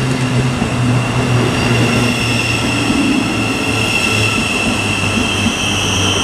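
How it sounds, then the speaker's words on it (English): A Thameslink Class 700 on the Royston to London King's Cross service pulls into Stevenage station, a loud, close, continuous rumble with low humming tones, faint wheel squeal and a few rhythmic rail clicks. "What's also coming in is the 1140 Thameslink service from Royston to London King's Cross."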